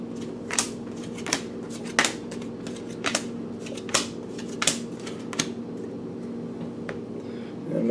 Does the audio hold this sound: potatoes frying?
no